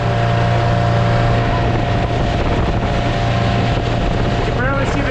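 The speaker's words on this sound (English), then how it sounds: "A little noisy in here without the engine cover" The engine of a Junky Raven 195 boat runs loudly with its cover off while cruising down a river, a steady droning hum with a rough mechanical rattle and wind noise throughout.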